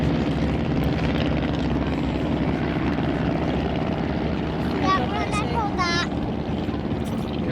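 An SE-5A vintage biplane with a wooden airframe passes left to right at the Farnborough air show, its propeller engine a steady loud drone under a continuous crowd and outdoor din, with a brief whistling tone near the end.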